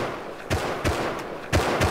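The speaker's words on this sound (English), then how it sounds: "I heard a lot of gunshots." Gunshots in the video game Rust, several sharp cracks spaced irregularly over two seconds, each loud and punchy above a constant noisy background.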